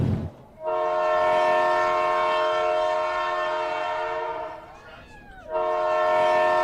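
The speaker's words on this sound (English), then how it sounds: "It's that train horn we've had all year long" A train passing near a high school lacrosse field blares its horn in long sustained chords, pausing briefly before sounding again, with low rail rumble underneath and faint crowd noise.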